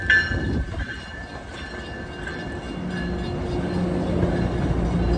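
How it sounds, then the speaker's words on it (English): A train rumbles past nearby, its steady mechanical roar growing slightly louder, with faint clatter and a high tonal whine over it. "Oh, here comes the train now."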